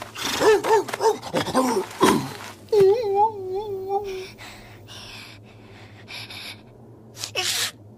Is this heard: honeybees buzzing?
no